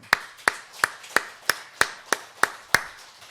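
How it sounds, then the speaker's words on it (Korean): A congregation at a Sunday afternoon church service claps in a steady, even rhythm of about nine sharp claps, each a crisp separate strike rather than a wash of applause, with no talking over it. "우리 박수 한번 합시다"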